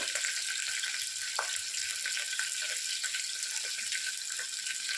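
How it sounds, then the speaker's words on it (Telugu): Onions and green chillies frying in hot oil for tomato rice: a bright, continuous crackling sizzle, close and fairly loud, dotted with small pops, with no one speaking. "ఈ నూనె మరిగిన దాంట్లో ఉల్లిపాయలు, పచ్చిమిరపకాయలు"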